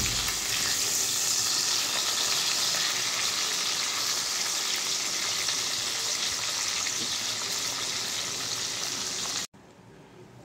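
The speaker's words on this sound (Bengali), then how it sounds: "মাছ ভাজা আমার হয়ে গেছে" Tilapia fish pieces sizzle loudly and continuously in hot oil in a pan, a close, dense crackle that cuts off abruptly near the end, leaving faint room tone.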